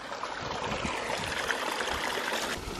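Creek water flowing steadily near a micro hydro intake with a Coanda screen, a continuous close gurgling rush with no pauses.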